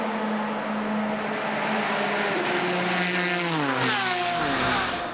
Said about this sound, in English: BMWs and the Ferraris battle behind the Ford Porsche battle for GTE Pro.